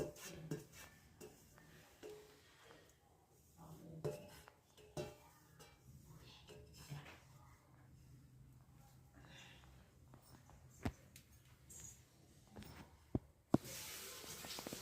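Cabbage fry with grated coconut is stirred in a pan, giving faint soft scraping and occasional metal clinks against a quiet background, with a few louder knocks near the end.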